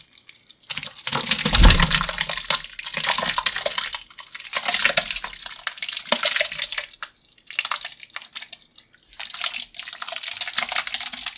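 Hot grape mixture pours through a brew bag into a 5-gallon bucket, a steady close splashing, gurgling stream that runs continuously with short pauses and no talk.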